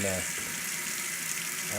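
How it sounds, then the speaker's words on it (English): Hot water runs from a kitchen sink faucet during a home inspection, a steady broadband rush filling the short stretch, with a voice briefly audible at the start and end. "Get some water going. We'll obviously run the hot water too."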